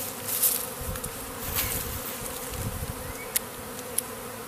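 A swarm of bees hums in a dense, steady buzz close by, with individual bees whizzing past over the drone and a couple of faint clicks.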